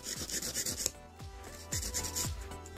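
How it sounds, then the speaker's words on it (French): A nail file shapes gel nails in short, rhythmic back-and-forth rasping strokes, close and fairly quiet, with a brief pause midway and no speech. "je vais finaliser la forme avec la lime"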